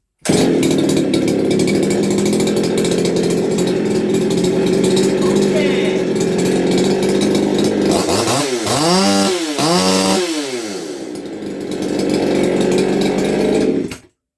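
A stock Poulan Pro 330 chainsaw runs loud and steady after a cylinder repair, its engine holding a constant drone, then revving up and down in several quick sweeps before settling back to a steady run.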